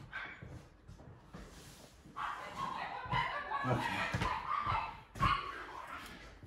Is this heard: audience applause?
no